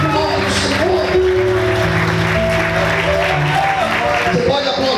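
Sustained applause from a large church congregation, with steady clapping throughout and voices rising over it.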